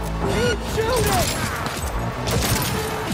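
Gunfire in Cyberpunk 2077, repeated shots and bursts crackling through a busy, loud combat mix, with voices talking over the shooting.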